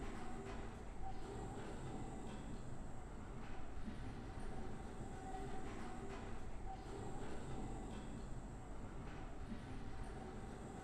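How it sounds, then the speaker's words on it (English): A tram in the game Abiotic Factor rolls along with a continuous rumbling rail drone and faint periodic clicks and squeals, steady and enveloping for the whole stretch with no voices. "This time I'll make sure to actually take the tram home."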